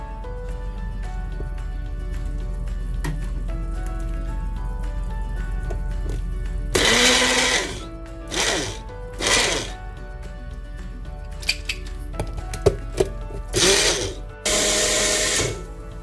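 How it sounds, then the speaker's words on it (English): A blender whirs through a thick paste of yogurt, cashew nut and coconut in several loud bursts of a few seconds each, separated by short pauses, after a stretch of quiet low hum. "We just move the blender over."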